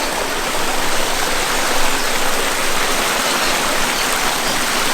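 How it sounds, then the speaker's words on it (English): A garden water feature's waterfall pours in a continuous loud, full rush of falling water, steady and close throughout with no voices. "My waterfall is Spectacular"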